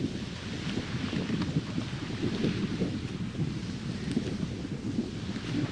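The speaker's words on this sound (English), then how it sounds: "Can you hear the wind?" Wind buffeting a microphone outdoors, a steady close rumbling roar with gusty surges that fills the whole stretch without pause.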